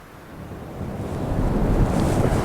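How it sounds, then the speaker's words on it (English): Ocean surf rolls against the Orkney shore in rough weather, a broad low rumble that swells louder and closer over a couple of seconds, mixed with wind buffeting the microphone. "I'm waiting now in the waves"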